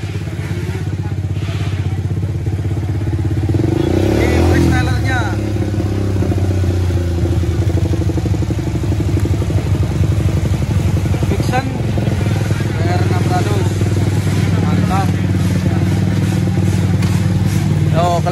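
A Honda CBR 600 freestyle motorcycle idles and rumbles loudly at a matic race event, with engine revs and clattering mechanical noise over a busy crowd where people talk throughout.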